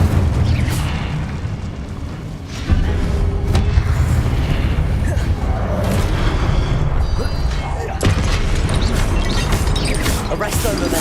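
The Incendio fire spell cast in the Hogwarts Legacy video game brings loud booming bursts and crackling blasts over a dense rumbling battle bed, with several sharp impacts throughout.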